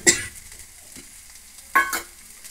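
Okra (ladies finger) palya being stirred in a pan with grated coconut and fresh coriander leaves. Two short scraping, rustling bursts, one at the start and one near the end, with near silence between them.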